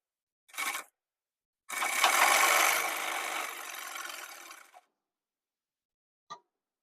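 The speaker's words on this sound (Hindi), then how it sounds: "आधा इंच का मार्जिन लेकर इसमें सिलाई लगाएंगे।" A sewing machine runs in one sustained burst of about three seconds, stitching a shirt shoulder seam with a half-inch margin. Short clicks of the machine's mechanism come just before and after the run, with no talking.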